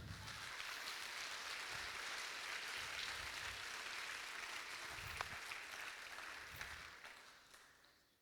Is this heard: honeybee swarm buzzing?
no